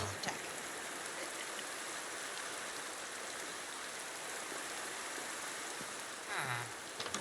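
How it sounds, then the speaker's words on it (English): Steady rain in the video game Minecraft hisses evenly throughout, a constant wash of falling drops with a brief soft disturbance near the end. "Want the rain to go away."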